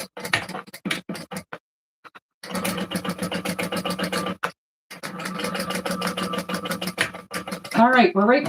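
A sewing machine top stitches a shoulder bag in steady rapid bursts, stopping twice for short pauses before starting again, close and fairly loud; a voice speaks briefly at the very end.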